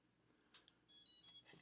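A small RC ESC board emits a few faint, quick electronic beeps followed by a slightly longer tone, close and quiet.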